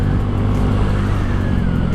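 A stock Honda Vario scooter engine revs loudly and close up, holding a steady, rough drone for two seconds with no speech.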